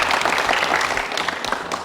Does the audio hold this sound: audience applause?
yes